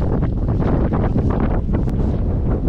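Heavy wind buffeting the microphone while cycling into a headwind across the spring Żuławy lowlands toward Gdańsk, a loud continuous low rumble with no break.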